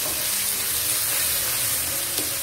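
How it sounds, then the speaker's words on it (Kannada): Tomatoes fry in a pan for uppittu, a steady, fairly loud broadband sizzle and hiss that continues unbroken throughout. "ಸಾಫ್ಟ್ ಆಗೋವರೆಗೆ ನೀವು ಇದನ್ನ ಫ್ರೈ ಮಾಡ್ತಾ ಬರಬೇಕು"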